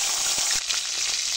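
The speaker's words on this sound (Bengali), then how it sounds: "এই তেলের মধ্যে দিয়ে দেবো কাঁচা ঝাল।" Green chilies hit hot oil left from frying fish, giving a loud, continuous close-up sizzle with a couple of faint stirring taps.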